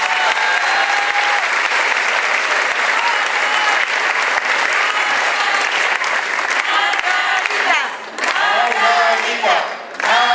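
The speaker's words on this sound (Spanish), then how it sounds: "la licenciada Margarita González Arabia, para quien pido un fuerte aplauso." Loud, sustained crowd applause fills an outdoor esplanade in Tetelcingo, Morelos, greeting the state's governor-elect at a public event, with dense clapping throughout that briefly dips near the end.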